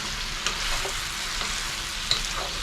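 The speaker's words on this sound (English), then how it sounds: "it's frying up really good" Steady sizzling of vegetables frying in a hot pan, with a few faint clinks and stirring sounds, no talking.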